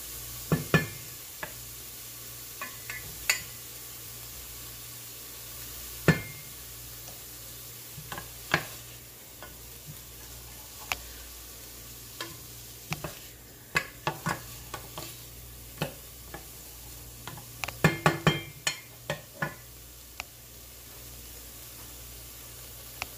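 Butter and onions cooking in a pot, a soft steady sizzle under intermittent ticks and taps of stirring, close and fairly quiet with no talk.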